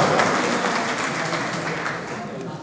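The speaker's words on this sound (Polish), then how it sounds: "Wielkie brawa." An audience at a Polish Christmas wafer-sharing gathering breaks into applause, a dense, steady patter of many clapping hands that fades slightly toward the end.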